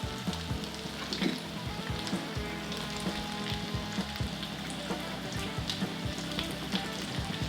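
Peppers sizzling and frying steadily in hot oil in a pan for a Spanish-style omelette, a continuous close crackle with occasional stirring clicks and no talk.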